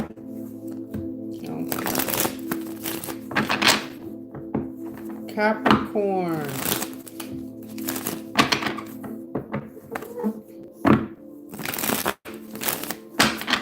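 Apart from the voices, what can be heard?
shuffling cards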